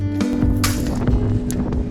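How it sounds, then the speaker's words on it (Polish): Strong wind buffets the microphone in a heavy, continuous roar with gusty bursts, loud and close throughout. "Jak widzicie, wiatr był okrutnie silny."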